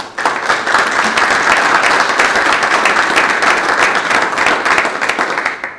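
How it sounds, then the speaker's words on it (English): Conference attendees at an automotive marketing event give a speaker a big round of applause, loud, dense and sustained clapping from a sizable crowd that continues evenly throughout. "would you give Anita Avram a big round of applause from Google?"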